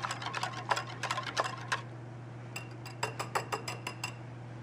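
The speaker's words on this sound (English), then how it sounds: "Stir that well." A spoon stirs creme brulee custard of eggs, cream, sugar, vanilla and a pinch of salt, making quick rhythmic clinks against the bowl in two bursts over a low steady hum.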